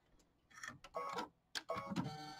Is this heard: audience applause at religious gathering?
no